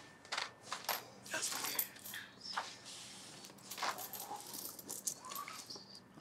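Pennies dropped onto a sheet of folded paper in a simple load test, a rapid series of bright metallic clinks and taps, close and fairly quiet, clustered in irregular bursts.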